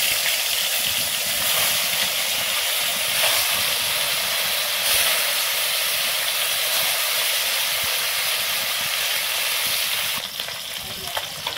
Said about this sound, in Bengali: তেল গরম হয়ে গেছে, এখন দিয়ে দেব মাছ।